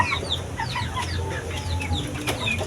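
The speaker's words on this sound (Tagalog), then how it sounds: "stag ito mga tol" A three-month-old Shamo stag of Jutako bloodline clucks in a series of short, repeated calls at moderate distance, with other fowl and a low farmyard hum in the background.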